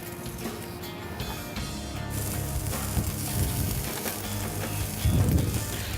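Butter sizzling under an overhead grill with asparagus, a steady dense crackle and hiss throughout, close and fairly loud with no talk.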